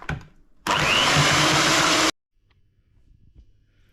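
An electric mixer beats pancake batter of milk, melted butter, sugar, salt and eggs in one loud, steady whirring burst of about a second and a half, which cuts off abruptly into near silence.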